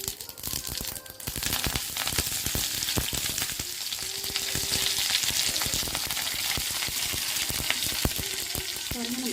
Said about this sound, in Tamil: இப்போ இந்த சட்னிக்கு தாளிப்பு செஞ்சுக்கலாம். கடுகு பொரிஞ்சதோடனே கொஞ்சமாக கருவேப்பிலை,